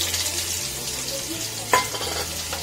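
Onions fry in hot oil with cumin seeds and ginger for an egg curry, a steady close sizzle with a low bubbling undertone and one sharp clink of a utensil partway through, with no speech.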